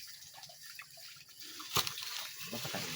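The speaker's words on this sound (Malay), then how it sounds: "Tu kata air kecing" Urine trickles out of a deer carcass as it is gutted, a faint wet dribble with a few drips over steady outdoor background noise, close by.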